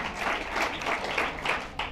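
Brief patter of audience applause for the South group at a school event, steady clapping from a crowd with no voices on top.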